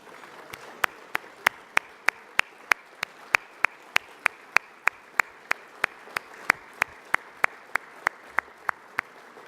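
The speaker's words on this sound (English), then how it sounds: "I'd now like to invite our board members to stand as we give them a round of applause" Sharp, evenly spaced single claps ring out at about three per second, around thirty in all, while board members stand at a national horticulture convention; each crisp clap stands out against a quiet, faintly humming room.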